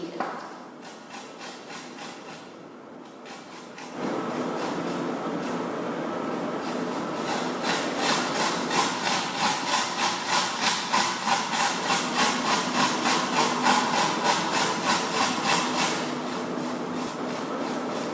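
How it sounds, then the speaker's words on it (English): An onion is rubbed over the coarse side of a grater in quick, even back-and-forth rasping strokes that start after a short quiet pause and continue close and loud. "keep turning the onion around to get a good hold on it so that you can grate it"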